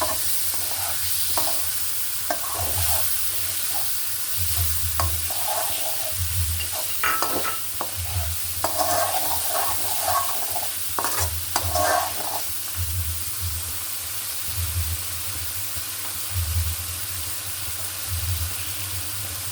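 Two cut potatoes added to a hot oily pan and stir-fried, a constant loud sizzle with repeated scraping and clattering of a spatula turning them, close and steady throughout.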